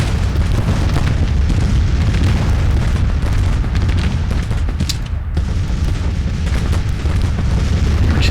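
Artillery fire in Grand Tactician: The Civil War, a dense, continuous din of loud booms and bursts rumbling without pause, with a few sharper cracks standing out near the middle.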